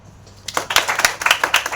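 An audience in a university lecture hall breaks into brisk applause for a girl, many hands clapping together in a dense, lively patter that starts suddenly and keeps going steadily.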